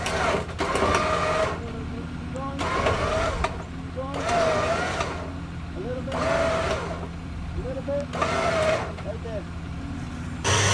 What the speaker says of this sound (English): run that winch up to the Corvette, and see if we can just drag it off the trailer